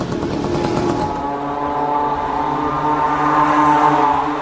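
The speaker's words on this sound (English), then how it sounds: "This is a small moped engine or scooter engine sourced from China at a cheap price." A small cheap Chinese moped or scooter engine runs steadily, its buzzy drone settling into an even hum that grows slightly louder toward the end.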